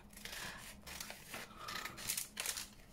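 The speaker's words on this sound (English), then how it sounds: "and then cut that part off." Scissors snip through a paper window envelope taken from junk mail, several quiet, crisp cuts following one after another with light paper rustling, close and soft.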